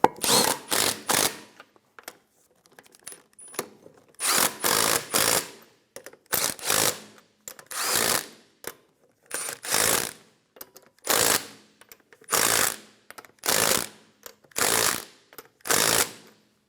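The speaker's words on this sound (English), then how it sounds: "Snug down the lug nuts." Lug nuts being snugged down on a 2003-2007 Infiniti G35 rear wheel, heard as repeated short loud bursts of a power tool in a steady rhythm, about a dozen in a row with brief pauses between.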